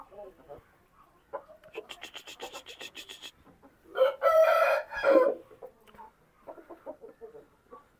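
A blue Shamo rooster gives a loud, close crow amid rhythmic clucking before and after, with a voice speaking faintly alongside.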